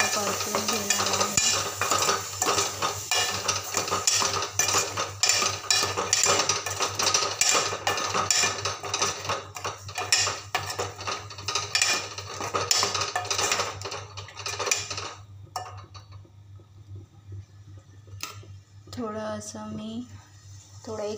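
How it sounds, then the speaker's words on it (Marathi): Green beans and potato sabzi stirred and sautéed in a pan, a steady run of scraping and clinking for most of the clip, easing near the end as a voice briefly speaks. "भाजीला मी असे एकजीव होईपर्यंत परतून घेणार आहे"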